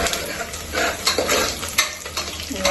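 Onions fry in a pan, cooking toward golden brown, with a steady hiss and sizzle while a utensil stirs and scrapes now and then, close up and alone.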